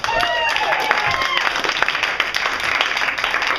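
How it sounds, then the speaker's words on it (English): An audience gives a round of applause for volunteers called up on stage, with steady dense clapping running throughout under some voices. "Round of applause for her and I."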